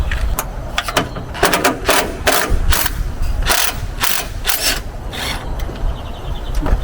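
A ratchet wrench loosening and backing out a 10mm bolt on a 6.0 engine during a coolant filtration kit install. Quick bursts of close, crisp clicking repeat steadily, with brief pauses between runs.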